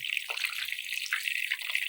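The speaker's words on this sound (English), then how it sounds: "You know your spinach is done frying when it really stops making that sizzling sound." Steady crackling sizzle of spinach frying in a hot pan, continuous and close, with bright hissing spatter and no talking.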